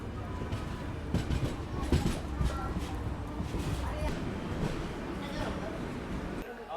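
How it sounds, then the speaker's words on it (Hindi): A train pulls into Akola Junction railway station in rural Maharashtra with a heavy continuous rumble, rhythmic wheel clatter and occasional higher metallic squeals, loud and close throughout. "बेहद खूबसूरत अराइवल हो रहा है अपनी ट्रेन का अकोला जंक्शन रेलवे स्टेशन पे"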